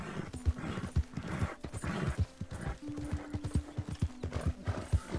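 A horse in Red Dead Redemption 2 trots with steady, clear clip-clop hoofbeats and gives a brief whinny partway through, close and fairly loud with no talk.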